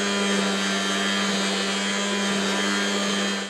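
A blender mixing homemade aloe vera cream gives a steady, loud motor whine with a strong constant hum, unbroken for the whole stretch and heard alone.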